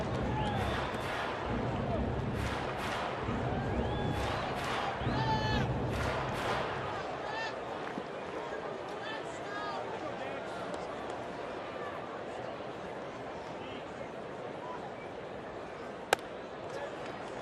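Tuesday night baseball crowd of over thirty thousand in a stadium, a broad murmuring hum with scattered shouts, mostly steady and moderately distant, with play-by-play commentary talking over it early on and a sharp click near the end.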